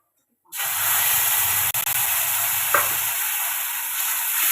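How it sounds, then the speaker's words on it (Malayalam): Crushed coconut being stirred into a browning mixture in a hot pan while cooking Kottayam-style kappa biriyani, giving a steady, close hiss and sizzle with soft scraping throughout, no talking. "ചതച്ച് വെച്ചിരിക്കുന്ന തേങ്ങ കൂടി അതിലേക്ക് ചേർത്ത് നന്നായിട്ടൊന്ന് ഇളക്കാം"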